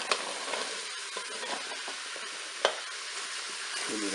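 Carrots are stirred into a bolognese sauce in a Cookeo multicooker, a soft steady sizzle with occasional utensil clicks and scrapes against the pot, one sharper knock near the end.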